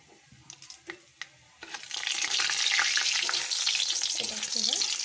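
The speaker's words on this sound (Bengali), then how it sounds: "এটা এবার 30 থেকে 40 সেকেন্ড আমি নাড়াচাড়া করে নেব।" Whole spices including mace, black peppercorns and cracked green cardamom frying in a pan for chicken biryani: a few scattered clinks and taps, then a loud steady sizzle with stirring scrapes that continues to the end, with no talk.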